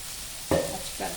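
Spices are sautéed with sambar powder in a hot pan, a soft, quiet sizzle broken by two brief scraping stirs.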